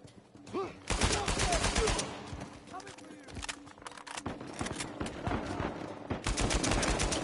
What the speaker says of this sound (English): I love the Barak gun in this.